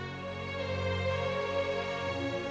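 A strings-only orchestral arrangement of a melody, sustained bowed tones layered across low and high registers, playing continuously and fairly evenly with no voices.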